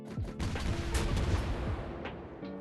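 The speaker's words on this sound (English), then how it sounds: "Yamato is still shooting at us." The Yamato battleship's big guns fire in World of Warships Blitz as a run of loud, overlapping booms and blasts across the whole stretch, with no talk.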